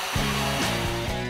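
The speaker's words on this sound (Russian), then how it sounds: "Шпаклевка высыхает где-то минут 20, а с помощью фена мы это сделаем за 3." A hair dryer blows hot air steadily to dry putty on a workpiece, a loud continuous whirring hum with faint rhythmic wavering and no voices.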